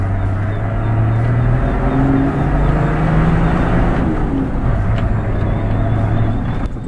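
Engine drone from a Nissan Patrol Y60 off-roader while driving, a loud, steady low rumble that holds throughout with no one talking.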